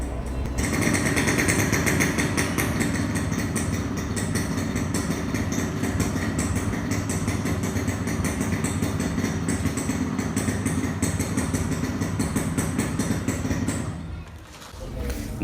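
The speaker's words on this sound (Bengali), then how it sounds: "এখন আপনাদেরকে ধীরে ধীরে ইঞ্জিনের সাউন্ড শোনানো হচ্ছে" A Yamaha RXS 115 motorcycle engine idles steadily and loudly up close, its rapid chattering pulse running nearly the whole time before briefly dipping near the end.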